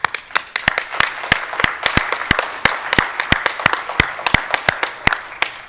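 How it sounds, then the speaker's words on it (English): Scattered applause from an audience at a higher-education research presentation, with distinct individual claps in an uneven, steady patter throughout, fairly close and moderately loud, with no talking. "I just want to give everyone a round of applause."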